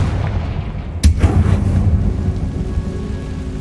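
A Confringo fire blast spell cast in Hogwarts Legacy bursts with one sharp, loud crack followed by a crackling, rumbling fiery roar that fades out into steady low ambient noise.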